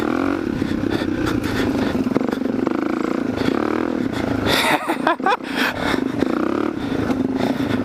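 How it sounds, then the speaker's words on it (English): A Suzuki DRZ400 dirt bike fitted with a 440 big bore kit and wide ratio transmission rides through desert terrain, its engine droning steadily, with a burst of clatter and scraping midway. "Got Tommy Boy on his DRZ 400 with a 440 big bore kit."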